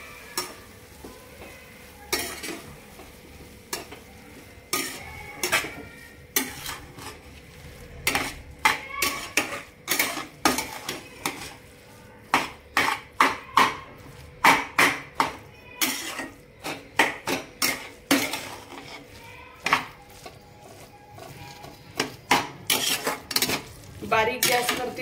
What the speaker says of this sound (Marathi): बारीक गॅसवरतीच आपण हे व्यवस्थित मिक्स करून घ्यायचं आहे, गाजर आणि खवा।